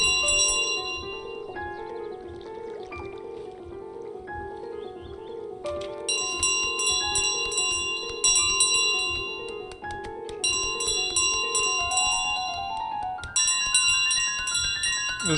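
Repeated bright bell chimes from Untitled Goose Game ring out in bursts over a steady musical backing, the clusters of strikes recurring several times and growing denser toward the end.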